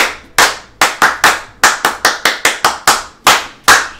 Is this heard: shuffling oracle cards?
no